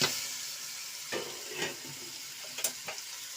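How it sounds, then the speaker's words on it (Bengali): Rice for crab biryani fries in a pan with a soft, constant sizzle, broken by a few light scraping stirs and a sharper clink near the end. "চালগুলা দিয়ে দিব"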